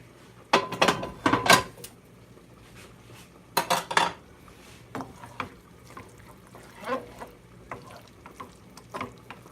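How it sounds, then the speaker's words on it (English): A utensil stirs meat, peppers, onions and garlic in a pan, with sharp clattering scrapes and knocks against the metal in bursts, then quieter scattered stirring. "And stir that around."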